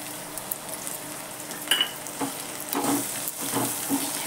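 Diced potatoes with salt and crushed peanut powder sauté in a pan, giving a steady close sizzle broken by a few scraping stirs of a spoon, with no talking.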